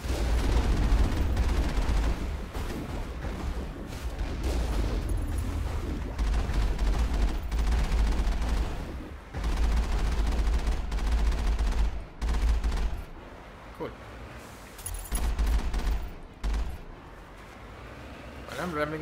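Gunfire aimed at the player in Mass Effect, arriving as dense, loud bursts of shooting with short pauses between volleys. A voice talks over parts of the firing.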